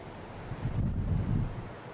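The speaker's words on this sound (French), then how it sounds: "on atteint le Cabo de Roca, balayé par les vents, le point le plus occidental de l'Europe" Wind sweeping the Cabo da Roca sea cliffs on Portugal's Atlantic coast, a steady roaring rush buffeting the microphone and swelling briefly at its middle, with no voices.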